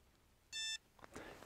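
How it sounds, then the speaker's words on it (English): A Benro Polaris camera control unit emits a single steady electronic beep lasting about a quarter second as it powers off, clear and close, followed by faint handling noise. "It turned off with the beep."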